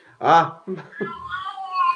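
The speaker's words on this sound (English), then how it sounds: "the cat's running back and forth through the house yelling." A house cat yells indoors while running back and forth: one loud drawn-out meow, then shorter cries, mixed with a brief human voice.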